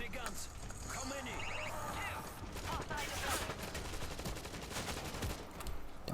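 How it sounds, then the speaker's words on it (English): Sentry guns rattle off rapid bursts of gunfire during a zombie horde fight in World War Z's Moscow level, dense and continuous under a loud chaotic mix with voices talking over it. "Sentry guns."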